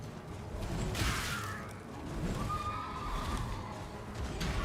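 A horse neighing in the video game Elden Ring, a loud whinny over clip-clopping hooves and rumbling game action, with a second, fainter whinny following.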